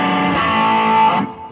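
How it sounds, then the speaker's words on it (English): Electric guitar played through a TC Electronic Nova Drive pedal with its drive and distortion running in parallel, a loud, thick, sustained distorted chord ringing out alone for over a second before cutting off abruptly. "if I put in the drive and the distortion in parallel mode, I got punchiness from the drive and the big fat low end from the distortion"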